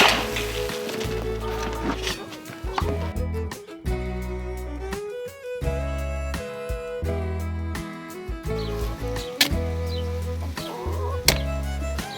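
Hens clucking and squawking close by in a noisy coop, with bursts of calls overlapping amid occasional knocks and rustling.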